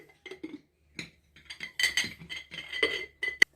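A spoon clinks against a clean lidded jar while ground sesame is added, giving scattered light taps and a sharp ringing chink near the end, close and clear in a quiet room.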